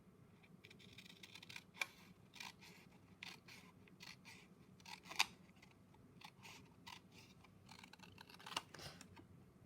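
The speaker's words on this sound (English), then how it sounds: "I'm just going to cut this down. So I'm going to do it with my scissors." Quiet, sparse snips of scissors cutting through stiff card, a few sharper cuts standing out over faint background hum; no talking.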